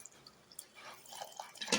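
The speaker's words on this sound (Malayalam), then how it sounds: "ആവശ്യത്തിന് വെള്ളം ഒഴിക്കുക." Water is poured into a sugar-sweetened mixture, heard as faint, irregular trickles and drips that grow a little louder toward the end, with no talk.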